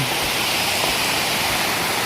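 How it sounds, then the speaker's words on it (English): A waterfall along the Loyalsock Trail in Pennsylvania roars as a loud, steady, broad rush of falling water, close and continuous with no voices. "What a waterfall."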